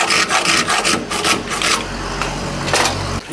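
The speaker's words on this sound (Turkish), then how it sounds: "Fazlasını kesiyoruz evet." Excess material is cut away while a Turkish tapan-style knife is being made, giving rough, rapid rasping and scraping strokes that come close and loud, then stop.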